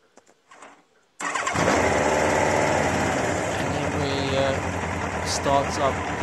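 A Yamaha FJ1200 motorcycle engine after carburettor synchronisation cranks briefly and fires up, settling into a loud, steady idle with a slightly uneven beat, close by, after a few faint sounds.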